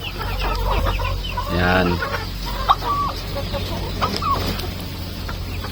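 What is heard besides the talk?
native chickens clucking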